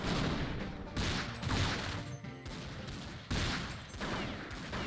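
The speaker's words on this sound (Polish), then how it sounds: "Nie wiem skąd ten Nowek strzela." Bursts of gunfire in Counter-Strike 1.6, loud overlapping volleys in several rough waves separated by short dips, dense and close throughout.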